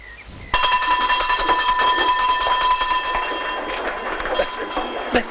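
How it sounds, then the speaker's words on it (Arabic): A school bell rings with a sustained, bright metallic tone that holds steadily for several seconds, loud and close, with faint room noise around it. "رن الجرس يا محمود."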